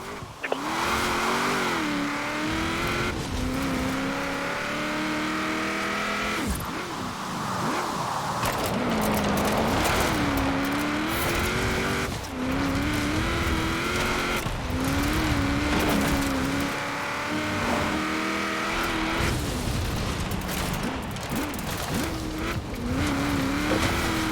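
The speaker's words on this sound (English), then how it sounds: "Notice the improved acceleration as we pass the dam." Car accelerating in Forza Horizon 4, a loud engine revving up through repeated gear changes, its pitch climbing and dropping in cycles with brief tire noise, sustained and close.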